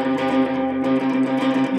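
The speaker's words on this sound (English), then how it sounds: "I'm just going to turn on a delay and a bit of distortion." Sustained distorted electric guitar chord through noisy vintage pickups, ringing out with echoing delay, thick and steady.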